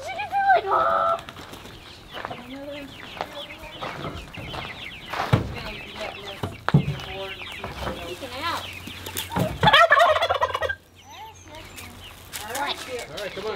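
Chickens cluck and squawk in bursts amid a busy farmyard at Lyndon B. Johnson State Park, with people talking over them throughout.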